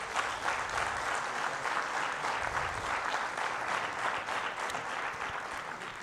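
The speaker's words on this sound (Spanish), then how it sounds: "a quien brindamos y recibimos con un fuerte aplauso" A conference audience applauds to welcome a speaker to a talk on digital transformation: dense, sustained clapping from a sizable crowd fills the room evenly, steady and fairly loud throughout, with no voices over it.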